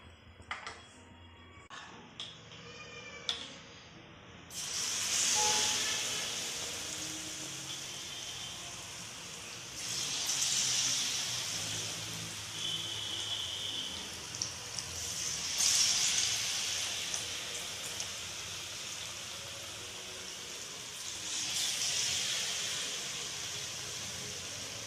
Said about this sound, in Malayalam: ഇത് നമുക്ക് ഓരോന്നോരോന്നായിട്ട് ഈ ബാറ്ററിൽ മുക്കി പൊരിച്ചെടുക്കാം